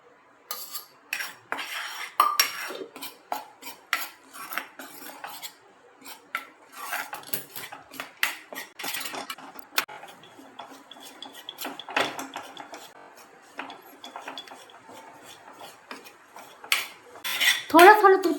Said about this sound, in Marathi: आणि हे मंद गॅसवर भाजायचं